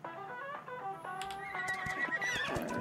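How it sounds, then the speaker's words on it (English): Horses in the video game ARK neigh and whinny in several clear, layered calls with a hint of hoof clip-clop, fairly quiet and without speech. "We're going to have breeding horses."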